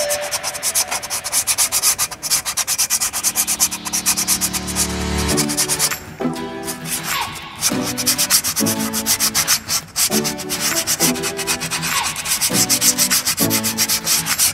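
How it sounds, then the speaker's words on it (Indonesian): Sandpaper rubbed hard over drum brake shoe linings, loud continuous scratchy strokes that keep a steady rhythm throughout, with a few short pauses between passes. "selanjutnya kita bersihkan kanvas ya, kita menggunakan amplas"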